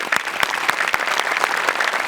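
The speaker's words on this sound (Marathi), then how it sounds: "जोरदार टाळ्या" A studio audience at a Marathi comedy show claps loudly and briskly after a performance, a dense continuous burst of applause with no talk over it.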